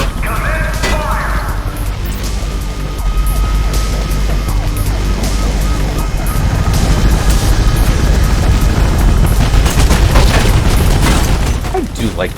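Gunfire and explosions from police forces in the video game Mirror's Edge come as dense, loud booming bursts with siren-like tones, rising in intensity toward the end.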